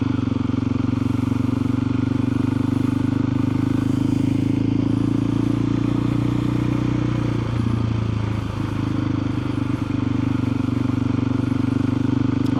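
A KTM 500 EXC-F dirt bike fitted with an FMF Factory Racing 4 exhaust rides along country roads, its loud, steady engine drone holding close and constant with a brief dip in the middle.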